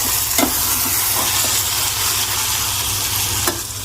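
Tomatoes being mixed into cooked dal in a pan: a steady sizzle and frying hiss runs throughout, broken by a few brief scraping stir strokes near the start and end, with no talking.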